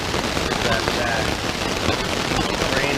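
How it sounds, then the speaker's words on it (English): Heavy rain in a thunderstorm pounds on an ultralight tipi tent shelter, a dense, steady hiss of drops drumming close on the fabric throughout. "rain is really coming down"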